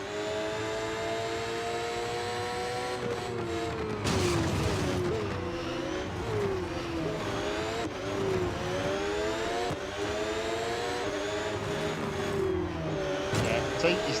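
A Formula One-style race car engine in Real Racing 3 howls and revs continuously, pitch climbing and dropping through gear changes, with a voice talking over it throughout.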